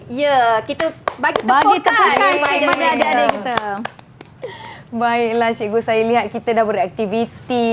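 Clapping for children in a classroom: sharp hand claps ring out amid a woman's lively speech, mixed with quick taps during and between her sentences.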